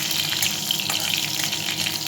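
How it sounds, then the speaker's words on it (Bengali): Nigella seeds and dried red chillies sizzle steadily in hot oil for a tempering, a dense close crackling hiss that holds at an even level with no voices. "এখন এই তেলের মধ্যেই আমি একটু কালো জিরে আর একটু শুকনো লঙ্কা দিয়ে দিলাম"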